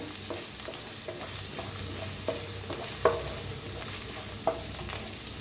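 Crushed garlic fries in oil in a pan for kadhi, giving a steady loud sizzle with occasional light clicks from stirring, and no voices.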